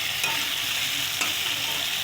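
Spice paste of ginger-cumin and chili paste with cumin tempering sizzling and frying in a pan with pointed gourd, a steady close hiss with a couple of soft stirring scrapes.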